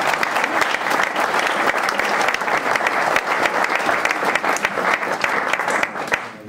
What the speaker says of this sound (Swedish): En stor applåd för Peter.